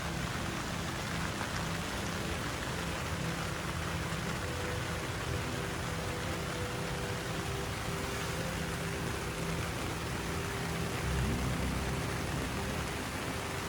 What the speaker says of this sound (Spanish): está lloviendo del copón